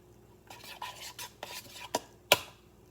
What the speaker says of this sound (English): you're going to take a spoon and you're going to beat the eggs